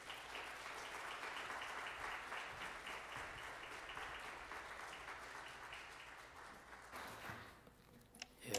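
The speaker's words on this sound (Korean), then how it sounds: "박수 해주시기 바랍니다." A church congregation gives a visiting pastor a long, steady round of applause during a New Year revival service, dense and even, fading out near the end.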